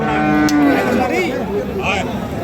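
Sahiwal breed bull at a cattle market lot sale, letting out a single loud, close, drawn-out moo amid a noisy crowd background.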